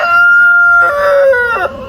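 A chicken on an off-grid homestead crows loudly and close, a sustained, strained cock-a-doodle-doo that shifts pitch midway and tapers off near the end.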